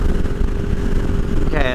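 A Honda Rebel 500 motorcycle at highway speed of around 70 mph gives a loud, steady low engine drone buried in heavy wind buffeting. A voice may come in briefly.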